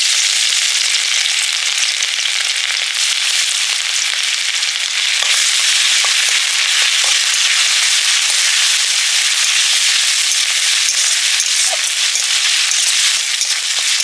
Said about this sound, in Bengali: তেল দিয়ে দিয়েছি এবারে আদা রসুন দিয়ে দিচ্ছি থেতো করা